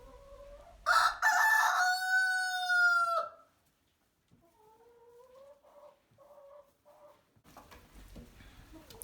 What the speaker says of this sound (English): This is all of our chickens in here right now.